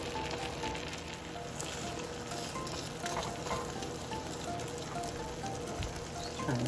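A plant-based egg cooking in a small mini pan, giving a steady fine crackling sizzle that stays even and close throughout, with no voices.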